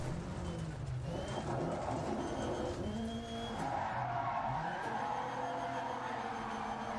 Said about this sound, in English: You can just hear the sound of the Rallycross cars so much louder.